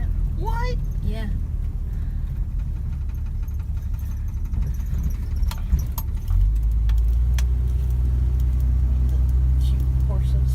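A 1966 Ford Mustang V8 rumbling low and steady from inside the car as it pulls off on a ride, with excited voices talking and cheering over the engine.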